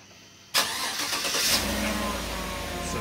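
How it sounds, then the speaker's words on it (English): After a brief quiet moment, a 2015 Chevrolet Silverado pickup engine cranks and catches with a loud burst, then settles into a steady rumbling idle close by. "so let me actually start the truck."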